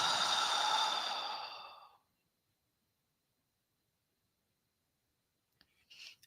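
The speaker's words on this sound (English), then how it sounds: "And exhale at your own pace." A slow, audible exhale during a guided meditation, breathy and close, tapering off into near silence, followed by a few faint clicks and a soft breath near the end.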